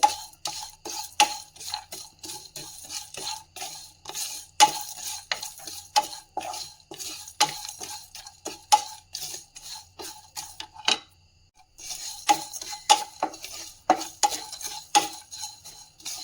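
Garam masala spices, including plenty of fennel seeds, dry roasting in a pan as a utensil stirs them with rapid, rhythmic scraping and rattling. The sound breaks off briefly and then resumes, close and clear, with no voices.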